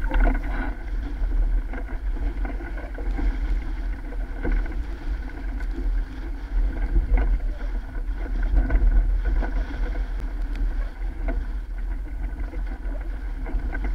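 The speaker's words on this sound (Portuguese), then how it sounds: "fica bem mais difícil a navegação, com bastante ondulação e o vento bem mais forte" A sailboat crossing a lagoon in strong wind and choppy waves, with continuous wind buffeting and water splashing against the hull, loud and steady for the whole stretch, no voices.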